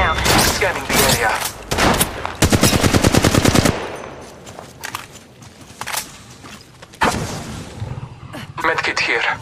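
Automatic gunfire in Apex Legends Mobile, with loud rapid bursts and a long fast rattling volley in the first half, then scattered shots and a final burst over quieter game ambience, no talking.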